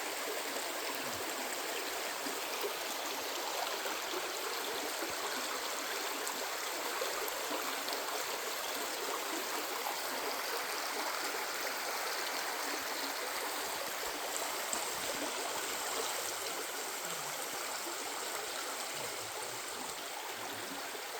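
Water in a stream runs through Fern Canyon with a steady, fairly loud rushing flow that holds without change for the whole stretch.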